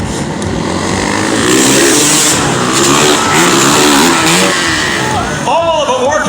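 Freestyle motocross motorcycle engines rev and roar at a Calgary Stampede arena show, loud and continuous, mixed with a commentator talking and crowd noise throughout.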